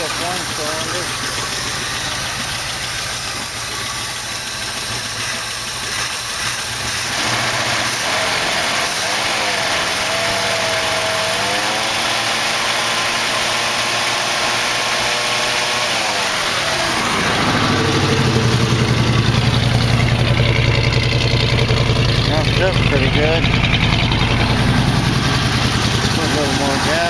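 Rough idle from the 401 engine of a 1968 AMX just after its first start, with an uneven, loping rumble that runs steadily throughout and grows a little louder near the end.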